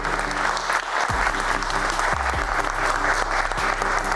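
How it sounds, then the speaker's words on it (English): Steady audience applause fills a school finals event for student philanthropy presentations, dense continuous clapping from a seated crowd, loud and even throughout with a few low thumps underneath. "can we get another round of applause from everyone?"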